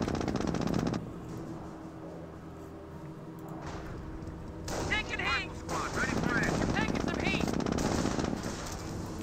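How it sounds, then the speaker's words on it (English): In the game Company of Heroes, a Jeep takes gunfire, heard as rapid machine-gun bursts and impacts under battle noise, with chirping sounds and a voice talking over much of it. "Jeep is getting shot to hell here."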